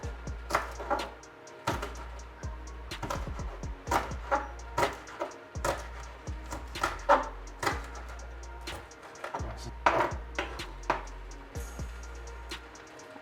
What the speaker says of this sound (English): I'm giving this a very good chop.